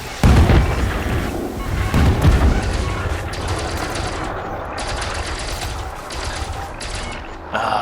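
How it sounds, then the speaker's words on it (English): Missiles fire and explode in a video game, heard as loud booming blasts and rumbling impacts mixed with mechanical clatter and gunfire. "Oh, they're shooting missiles."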